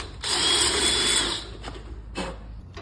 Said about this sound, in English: we got to drill a little hole so this doesn't rotate